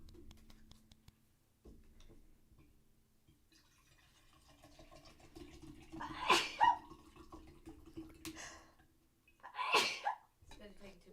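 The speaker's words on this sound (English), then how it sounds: "Oh, I feel like I'm gonna sneeze." Two distinct human sneezes a few seconds apart, close and sharp against a quiet indoor room, with soft whispered talking around them.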